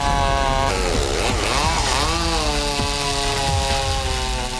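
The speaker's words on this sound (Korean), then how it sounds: "대형 전기톱으로 길이대로 나무를 켜나간다" Large electric saw ripping lengthwise through a big, hard timber log for ship framing, a loud continuous whining motor whose pitch dips and recovers under load.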